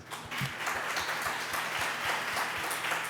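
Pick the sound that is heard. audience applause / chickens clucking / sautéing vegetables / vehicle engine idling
audience applause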